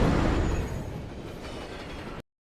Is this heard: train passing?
yes